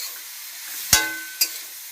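Chopped tomatoes hit hot oil in a pan with a sudden loud sizzle burst, followed by a second smaller hiss, over a low steady frying background.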